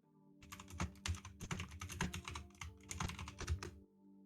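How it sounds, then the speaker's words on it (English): Typing on a computer keyboard, a fast run of close clicky keystrokes lasting a few seconds with a brief pause, faint and alone. "I heard you type."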